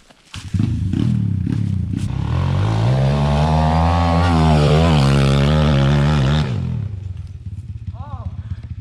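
A small 110/125 cc Loncin enduro motorcycle engine revs hard up and down outdoors in the countryside, a loud sustained rising and falling whine for several seconds before dropping back, with brief voices at the start.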